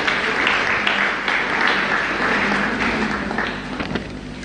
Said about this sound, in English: could we give the dancers a special round of applause